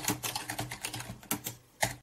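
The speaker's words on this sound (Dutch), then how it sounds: "Dus we zitten lekker te typen hier zo." Steady, fairly quick typing on a computer keyboard while programming in assembly, a close run of crisp key clicks with a few louder strokes, no voices.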